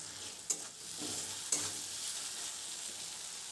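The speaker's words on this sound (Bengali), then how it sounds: "আদা শুকনো লঙ্কার পেস্টটা দিয়ে দিচ্ছি যতক্ষণ না আদার কাঁচা গন্ধটা যায় ততক্ষণ ভালো করে হাই ফ্লেমে কষিয়ে নিতে হবে" Ginger and dried red chilli paste frying over a high flame, a steady close sizzle with two sharp scraping stirs of the spatula against the pan.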